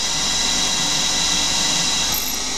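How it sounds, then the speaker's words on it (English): Loud, continuous high-pitched whine of a CNC stub drill cutting on a CNC lathe, steady and unbroken throughout, with no voices. "That drill is a CNC stub drill."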